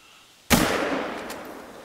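A single rifle shot cracks out in the hunting video game theHunter: Call of the Wild: one sharp, loud burst after a quiet moment, trailing off in a long fading echo.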